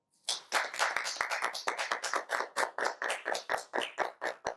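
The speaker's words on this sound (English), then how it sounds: "Keep clapping that up." Steady hand clapping from a few people in a small room during a podcast birthday celebration, about five crisp claps per second in an even rhythm that lasts several seconds, close and fairly loud with no talking.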